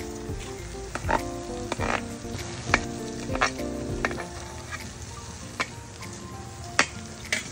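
Small crabs cooking in coconut milk with ginger, ginataang talangka, loud close sizzling and frying with repeated sharp clinks and scrapes of a utensil stirring in the pan.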